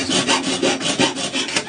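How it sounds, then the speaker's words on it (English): A coping saw with a rolled-over blade cuts a curve through a foot-long piece of metal, giving loud, close, rhythmic rasping strokes about three per second with no talk. "notice I'm sawing out of this foot-long piece of metal"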